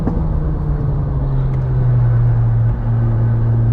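Honda Civic Type R FK8 at full throttle on the Nürburgring, a steady loud engine drone that climbs slightly in pitch as it accelerates, heard from inside the car with no talking.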